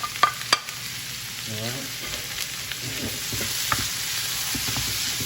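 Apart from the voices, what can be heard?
frying green peppers, green onion and tomato for ackee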